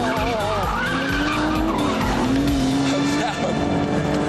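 An Aston Martin V12 DBS engine revs hard as tyres squeal and skid, a loud continuous screech with shifting pitch, up close.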